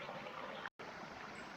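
A mountain creek runs steadily at the end of a steep trail climb, its broadband rushing and trickling water continuous and fairly near, with one brief dropout partway through.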